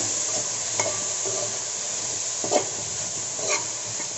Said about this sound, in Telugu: దీంట్లో తగినంత ఉప్పు వేసుకున్నామండి ఒకసారి కలుపుకుందాం